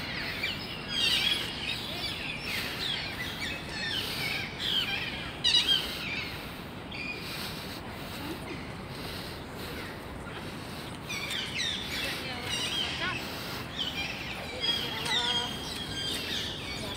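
Birds chirping and calling in Kowloon Park, repeated short tweets scattered over a steady outdoor background, moderately near, with no talk.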